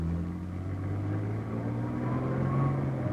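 A 1961 Ford Zephyr automatic pulls away in drive, its engine humming steadily and rising gently in pitch as it accelerates, close and even with no talk.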